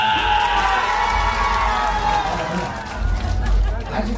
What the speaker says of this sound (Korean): 자, 이쪽에 빠가사리 박수 함께